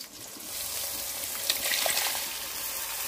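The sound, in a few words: pouring tamarind water into the curry pot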